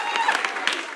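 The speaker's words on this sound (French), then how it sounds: "Applaudissez pour le Seigneur." Church congregation applauding during a worship service, a steady wash of clapping with crowd voices mixed in, fairly close and sustained throughout.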